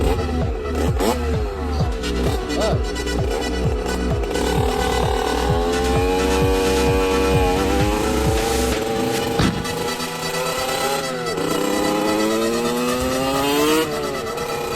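A motorcycle riding along small country roads, its engine loud and close throughout, with rhythmic revving and smooth rises and falls in pitch as it shifts and accelerates, with no talking.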